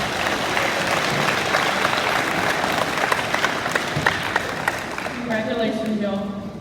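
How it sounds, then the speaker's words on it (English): An awards-day audience claps for newly installed student SCA officers, a loud, steady burst of applause that fades toward the end as a voice begins speaking over it. "Please give another round of applause for our new SCA officers."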